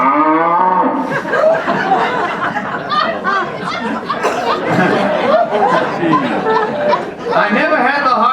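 Radio comedy sound effect of a cow mooing in an old Jack Benny broadcast, a long drawn-out low moo mixed with audience laughter and chatter, loud and continuous throughout.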